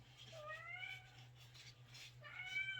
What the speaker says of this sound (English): My cat is demanding treats and she's not going to get any, so sorry about her meowing.